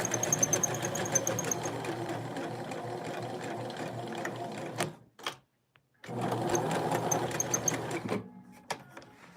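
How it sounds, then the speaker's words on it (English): A sewing machine runs a zigzag stitch along the fraying edge of crocheted Christmas dress fabric, a steady rapid mechanical whir that stops briefly, restarts, then winds down near the end; no talking. "I've added a zigzag stitch to finish this edge because this fabric is fraying a lot"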